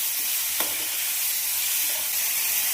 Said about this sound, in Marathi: सगळं तेलात चांगलं परतून घ्यायचं